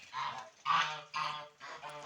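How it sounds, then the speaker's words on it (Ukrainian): Geese honking in a group on a village farm in the evening, several loud calls in quick bursts separated by brief pauses, close by. "Гуси і качки."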